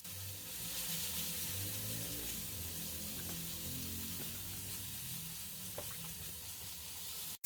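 Spices frying in hot oil for chicken liver masala, a steady close sizzle with faint stirring scrapes throughout, no voices.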